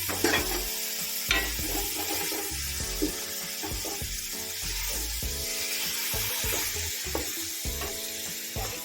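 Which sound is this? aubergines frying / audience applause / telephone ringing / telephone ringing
aubergines frying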